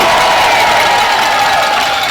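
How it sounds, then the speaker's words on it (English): A rally crowd of striking nurses and union members cheers and applauds for AFSCME local workers, a loud, continuous roar of clapping and shouting that fills the space without a break. "Give them a round of applause for what they do."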